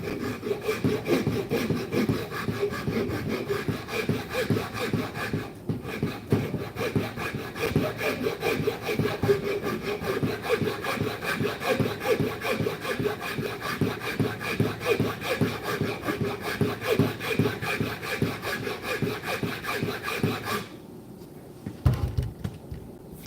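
Hand saw cutting a groove across the wooden fretboard of a cheap guitar, rapid rhythmic back-and-forth rasping strokes for about twenty seconds, close and steady, then stopping.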